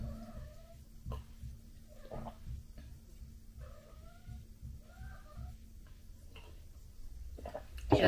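A house cat howls in a drawn-out, repeated wail, several rising-and-falling cries spaced through the clip, moderately near indoors with a faint steady hum underneath and no talking.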